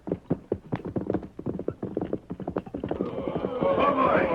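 Horses' hooves clip-clopping as a radio drama sound effect for a western scene with covered wagons and horsemen: rapid, uneven trotting hoofbeats, close and crisp, easing into a denser rumble with a whinny near the end.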